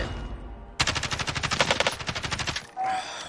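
A burst of rapid automatic gunfire in the video game Call of Duty: Warzone, about two seconds of evenly spaced loud shots, followed by a brief mechanical clatter.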